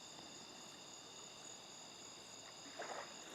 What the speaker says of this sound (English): Crickets. I was going to say crickets.